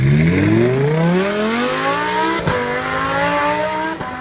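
A Ferrari engine roars as it accelerates, its pitch climbing steadily through the rev range, loud and close with no voices.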